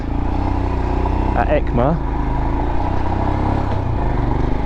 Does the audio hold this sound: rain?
no